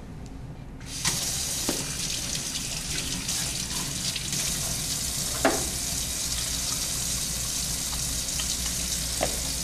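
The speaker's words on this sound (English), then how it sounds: "So let's go ahead and wash our hands." A tap gushes into a sink as hands are washed under the running water, a loud, steady rushing hiss that starts after a brief pause and carries on with small splashes throughout.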